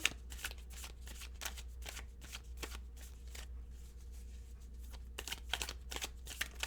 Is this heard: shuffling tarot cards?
yes